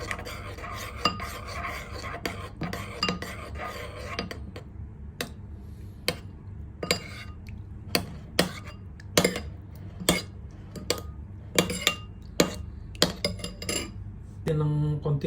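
Squid adobo with paprika and pepper being stirred in a pan: a series of sharp metallic scrapes and clinks of a utensil against the pan, irregular but steady, over a low background hum.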